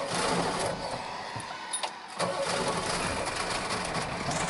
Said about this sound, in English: here's some very rough idling that I have right now